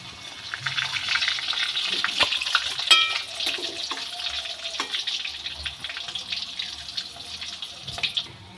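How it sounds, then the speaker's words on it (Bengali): Boiled potatoes fry in hot mustard oil in a wok, giving a steady, fairly close hiss of sizzling oil that runs without a break, with a few sharper crackles and spatters through it. "এবার সিদ্ধ করা আলুগুলো আমি ভেজে নেব।"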